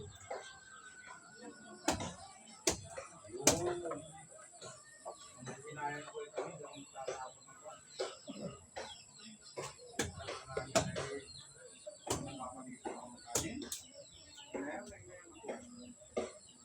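Several sharp bird calls ring out at intervals, chirps and squawks over a quiet outdoor background with faint voices.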